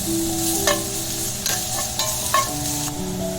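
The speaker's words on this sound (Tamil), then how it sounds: "இஞ்சி பூண்டு வதக்கிக்கலாம்." Onion, ginger and garlic sauté in a pan for South Indian paneer pepper fry, making a continuous close sizzle broken by several brief scraping strokes of a stirring spoon.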